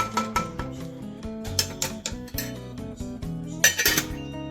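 A utensil stirs homemade pizza sauce in a pot, close up: a rapid series of bright metallic clinks and scrapes against the pot, irregular but steady, with no talking.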